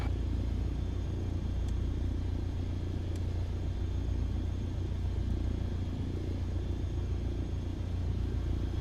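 Cessna 152 piston engine idling in Microsoft Flight Simulator 2020, a steady low rumbling drone held at constant loudness throughout, with no voices over it.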